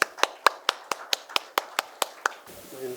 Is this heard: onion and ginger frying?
no